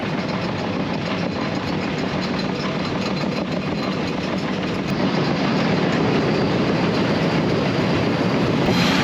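The Sundarban Express rumbles along on the Dhaka to Kushtia line across the Padma Bridge, a loud, continuous roar of wheels and carriages with a faint clickety-clack and no talk.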